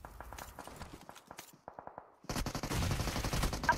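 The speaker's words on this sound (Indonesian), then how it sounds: "Tembakan tersebut membuat Nerpeko tumbang." Gunfire from a PUBG esports match: bursts of rapid automatic shots, some spaced single cracks, then a brief gap before dense, louder sustained firing fills the rest.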